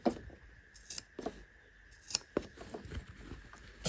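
Scissors trimming fabric at the corner of a sewn bag, a few faint metallic snips and clicks spaced irregularly in a quiet room, with no voices.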